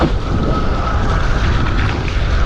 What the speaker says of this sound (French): Le vent est monté un tout petit peu